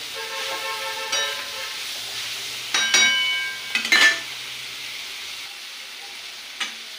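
Onion, green chilli and tomato fry in oil for chana masala while a spoon stirs, giving a continuous sizzle with scraping bursts and a couple of sharp metallic clinks against the pan, close up and without talk.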